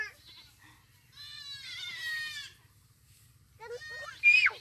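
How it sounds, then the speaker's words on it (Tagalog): Goats bleat in two bursts, a long wavering call in the middle and another near the end, with farm ambience and no talking. "May kambing na naman doon,"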